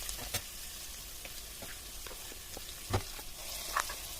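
Bay leaves and mint leaves sizzle in hot oil for a Hyderabadi-style egg pulusu: a steady, quiet frying hiss broken by a few sharp pops and crackles.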